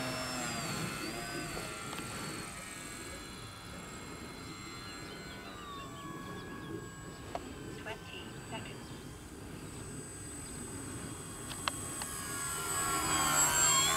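Durafly Gloster Gladiator Mk1 RC biplane fighter, a 1100 mm EPO electric model on 4S power, flies a pass outdoors. Its steady motor whine holds in the distance and swells louder near the end, with people talking nearby.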